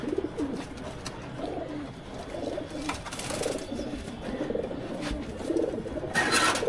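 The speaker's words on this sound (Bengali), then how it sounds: "এটা সিলভার কবুতর" A silver pigeon coos in soft, repeated low rounds at close range, with rustling and faint clatter around it and no talk.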